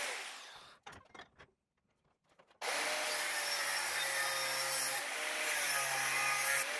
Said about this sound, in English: how to precisely cut 45 degree angles with an angle grinder